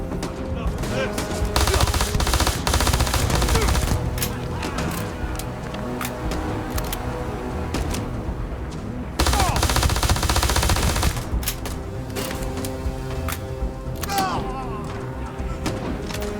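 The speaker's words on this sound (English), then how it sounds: "I'm gonna try and run in here, see if we can do a little bit more damage with our pistols" Rapid pistol gunfire in the space game Starfield rattles in dense bursts over an ongoing combat mix, loud and close, with brief pauses between volleys.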